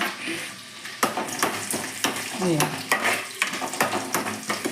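Garlic sizzles and fries in a hot pan while a spoon stirs it, with scraping and clinking against the metal over a steady crackling hiss, close and fairly loud.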